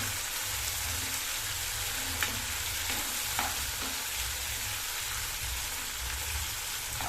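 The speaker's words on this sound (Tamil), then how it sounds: "எல்லாத்தையுமே நல்லா பச்சை வாசனை போக வதக்கிக்கணுங்க." Chopped onion, tomato, green chillies and curry leaves sauté for a Vellamai fish kulambu, giving a steady, close hiss and crackle of frying oil with faint stirring scrapes underneath.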